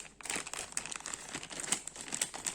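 Sagrada board game cards being handled and shuffled, a busy close run of crinkly rustling and flicking with quick sharp snaps.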